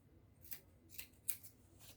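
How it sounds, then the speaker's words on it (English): Scissors snip through ankara fabric during gown cutting: about four quiet, crisp cuts spaced unevenly across a couple of seconds, with no talking. "I'm going to go ahead and trim off"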